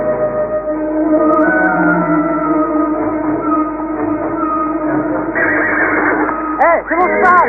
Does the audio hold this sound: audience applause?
no